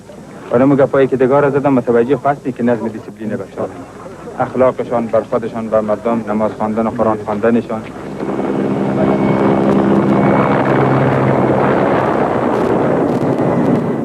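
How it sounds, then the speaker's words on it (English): Military helicopter rotor and engine noise in Afghanistan rises as a steady, loud roar in the second half, following a stretch of speech. "helicopters appeared promptly"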